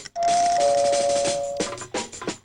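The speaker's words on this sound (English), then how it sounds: "Answer the doorbell." A doorbell chimes with a sustained ringing tone, loud and close, followed by softer knocks and rustling.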